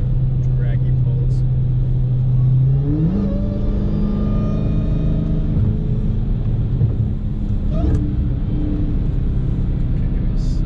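Dodge Charger Hellcat widebody accelerating hard on a timed pull, a loud steady engine drone that rises in pitch as it climbs through the gears, heard from inside the car with faint voices underneath.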